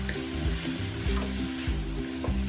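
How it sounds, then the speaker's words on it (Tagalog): Pizza sauce ingredients with salt being stirred in a pan: a steady low sizzle with repeated spoon scrapes and clinks against the pan, close and continuous, no talking. "Haluin natin siya guys para mag-blend o mag-mix ang ating"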